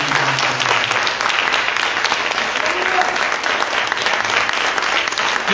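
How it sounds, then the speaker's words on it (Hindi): A church congregation claps loudly for a sermon, with steady dense applause continuing throughout. "परमेश्वर के नाम को ऊंचा करें, एक जोरदार ताली।"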